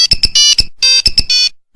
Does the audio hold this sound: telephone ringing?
yes